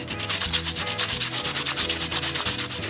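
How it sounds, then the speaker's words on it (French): Rhythmic wood sanding by hand, repeated scratchy back-and-forth strokes close up and loud, in a woodworking shop shaping furniture legs, with no voices. "Ça prend quand même un bon petit bout de temps, tout ce sablage-là."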